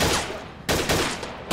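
Gunshots in the VR shooter Gun Club VR: a few sharp, loud bangs spaced apart, each with a short ringing tail, close and clear with no talk over them.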